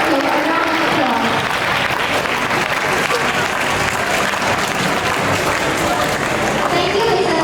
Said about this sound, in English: Let's give the incoming Peer Support Exco a round of applause